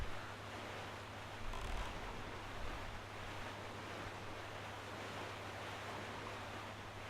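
Steady broadband wash of ocean waves and wind while sailing a small boat past Rockspire Island in The Legend of Zelda: The Wind Waker HD, continuous and moderately loud with a low droning hum underneath and no talking.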